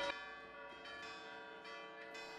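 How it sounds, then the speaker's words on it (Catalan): Church bells peal loudly and alone for a town Festa Major, ringing out rich overlapping strikes in a quick, steady sequence of about five clangs. "el repic de les campanes"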